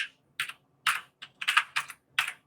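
Keystrokes on a computer keyboard in short bursts of quick, close taps with brief pauses between, fairly quiet and alone.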